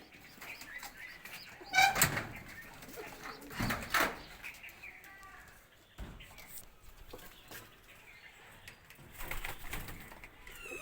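Soft pigeon cooing and fluttering nearby, with intermittent rustles and a couple of louder bursts of wing or cage noise.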